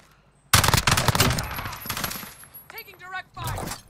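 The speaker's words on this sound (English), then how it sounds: "Taking direct fire." Loud rapid bursts of automatic gunfire in a video game shooter, sharp repeated shots crowding the first half, then thinning out with a voice talking over the later shots.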